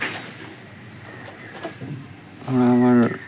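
A giribaz pigeon gives a short, loud coo near the end, after a stretch of quiet rooftop ambience with faint scattered sounds.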